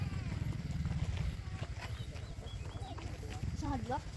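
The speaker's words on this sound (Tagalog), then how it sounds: "Ayan po, may kabayo. Good morning, kabayo." A horse close by at a communal ranch in Bukidnon, with hoof clops and a short whinny-like call near the end, over steady outdoor wind noise and background voices.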